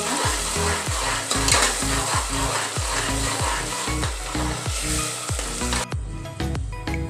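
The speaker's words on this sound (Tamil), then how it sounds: "நல்லா பச்சை ஸ்மெல் போகிற வரைக்கும் நல்லா மிக்ஸ் பண்ணி எடுக்கலாம்" A paste of onion, garlic, ginger and green chilli fries in a pot with a steady, loud sizzle, while a spoon scrapes through it in quick, regular strokes that stop shortly before the end.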